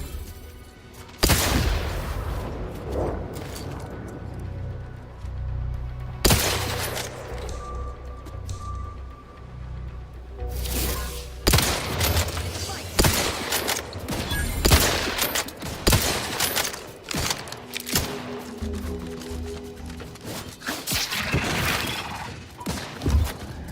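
Shotgun blasts in the video game The Outer Worlds 2, several loud booming shots spaced irregularly amid game noise and music, with a cluster of rapid bursts toward the end.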